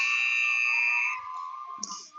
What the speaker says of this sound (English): But buzzer number 3 saves Capper